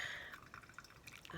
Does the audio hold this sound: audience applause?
no